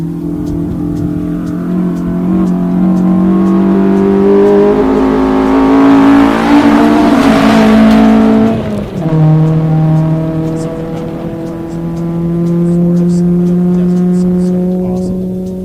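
A red Subaru 2.5 RS rally car launches from the start at a rally stage, its engine loud and close as it revs hard through rising gears, then drops pitch and drones away while a commentator talks over it.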